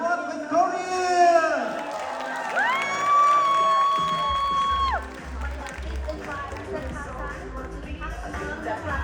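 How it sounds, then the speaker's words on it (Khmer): A crowd cheers and whoops for the newly crowned Miss Cambodia 2026 at a Victoria state pageant, loud and sustained for several seconds, with a voice over a microphone sounding above it. "សូមសម្លេងអបអរសាទរម្ដងទៀត"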